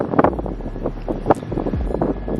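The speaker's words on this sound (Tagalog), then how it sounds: "Little bit windy here" Strong wind buffets the microphone on a cold mountain top at Santo Tomas overlooking Baguio city, a steady low roar with gusty bursts throughout and no voices.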